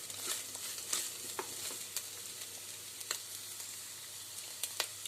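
Finely chopped carrot frying in a pan for Kerala-style carrot upma, a steady close sizzle with light stirring scrapes and small crackling pops throughout, no voices.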